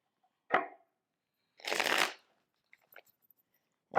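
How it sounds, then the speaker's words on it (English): A deck of tarot cards is shuffled in two quick, crisp riffles about a second apart, followed by a few faint taps, close and quiet, with no talking. "So I'm just going to shuffle."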